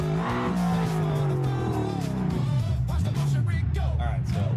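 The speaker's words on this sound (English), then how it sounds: "There's a big supercharger under there." A supercharged car in BeamNG.drive revs hard, its engine pitch sweeping up and down with faint tire noise, loud and close throughout while a voice speaks over it.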